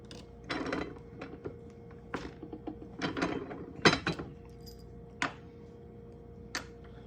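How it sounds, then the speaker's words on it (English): A steel ball bearing folds a 90% silver 2008 Arizona quarter inside a doming block, giving irregular sharp metallic clicks and taps in short clusters, fairly close and alone. "we're going to start folding it with a ball bearing"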